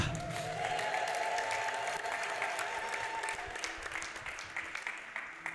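A church congregation erupts in sustained ululation and cheering for the Lord, a dense, steady wall of crowd noise with high trilling voices that fades slightly toward the end.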